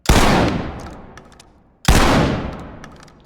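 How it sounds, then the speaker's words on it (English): Two loud, close shotgun blasts firing slugs in the video game Ready or Not, each a sharp crack that decays over about a second and a half, spaced nearly two seconds apart. "And you can also use a slug with the shotgun, as shown here."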